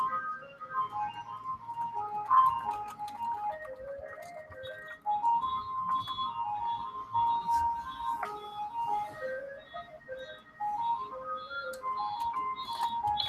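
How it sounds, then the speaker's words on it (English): A car alarm blares outside in a repeating electronic melody of stepped tones, moderately distant and cycling through its pattern for the whole stretch. "Another car alarm"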